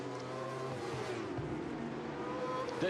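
British Superbike racing motorcycles, including the Gearlink Kawasaki, at speed on the Brands Hatch circuit, a loud engine drone with a swelling pass-by and engine notes rising and falling, heard briefly.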